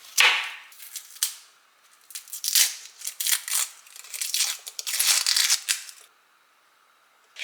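Onions being peeled by hand in a home kitchen, a run of close crisp crackling and tearing snaps of dry skins in uneven bursts, ending in near silence.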